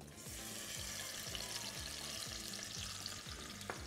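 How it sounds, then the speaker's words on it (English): Peeled, deseeded tomato quarters sizzle steadily in hot sunflower oil in a pan, a continuous bright frying hiss with faint bubbling and a soft clink near the end. "I'm placing the tomato wedges in oil."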